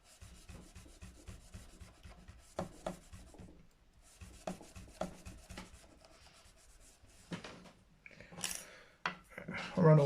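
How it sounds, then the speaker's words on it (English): Frets on a Gibson Les Paul guitar are polished by hand, giving faint, quick rubbing and rasping strokes in short bursts, with soft clicks and a louder scrape near the end. "I'm just focusing on polishing frets."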